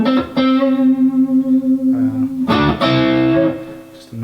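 An electric guitar runs through an EHX Soul Food overdrive pedal, a sustained, lightly gritty note ringing out before several loud chords strike and ring with mild grind, close and alone.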